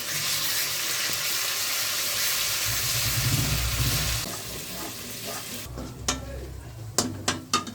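Ginger, garlic and green chili paste sautéing with fried onions for a mutton curry: a steady, close sizzle for about four seconds, then a quieter pan broken by a few sharp spoon scrapes and clicks.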